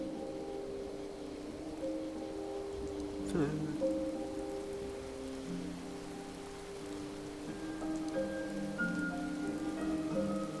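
Video game rain in Skyrim falls in a soft, steady patter beneath sustained musical tones, with a brief rising swoosh partway through; fairly quiet overall.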